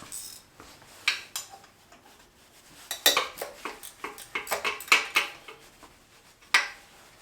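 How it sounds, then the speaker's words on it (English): A metal wrench works on an engine starter, giving a run of sharp, close metallic clinks and ratcheting taps in irregular bursts, some louder, with no speech over them. "We'll use a wrench."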